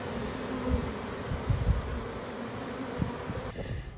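A honey bee swarm in North Texas drones with a steady, fairly faint buzz outdoors, with a few louder passes of nearby bees and no talking.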